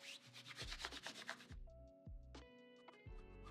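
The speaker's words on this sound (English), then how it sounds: "gonna have to rub out that chalk mark right there, that chalk line" Chalk mark on fabric being rubbed out, a fast series of close, scratchy rubbing strokes followed by a few separate slower swipes, with no talking.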